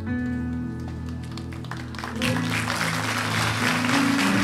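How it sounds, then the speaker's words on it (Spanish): Church congregation applauding, dense clapping that swells louder halfway through, mixed with sustained organ or keyboard tones underneath. "No aplauda tanto porque vamos a tener que ofrendar."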